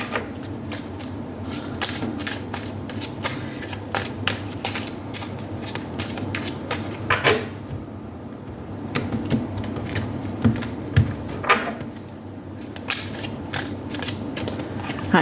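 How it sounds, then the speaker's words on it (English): Prism Oracle and Spirit Animal Oracle cards are shuffled and drawn by hand, a long run of rapid, close papery flicks and riffles with brief pauses and occasional soft murmurs. "Now I'm going to take out one card of advice from the Prism Oracle, and then one card from the Spirit Animal Oracle"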